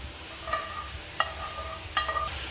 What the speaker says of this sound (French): Et on remue.